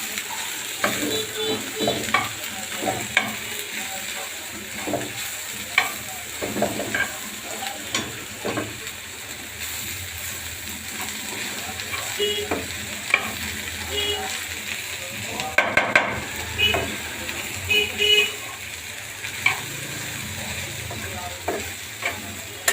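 Okra frying in a pan with turmeric powder, stirred steadily with a spatula: a continuous close sizzle with repeated scraping strokes throughout, with no voices.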